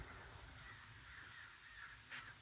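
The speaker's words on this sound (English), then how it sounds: "Those crows are not happy." Crows caw over a backyard garden, faint distant calls heard alone against quiet outdoor background.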